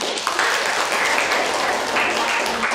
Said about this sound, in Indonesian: Ya, beri tepuk tangan buat teman kita.